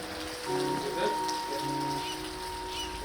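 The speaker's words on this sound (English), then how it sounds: "the low-hanging clouds and soaking rains welcome us back" Steady rain patters on surfaces under low clouds on Kodiak Island, Alaska, a soft continuous wash with faint tonal sounds briefly rising over it.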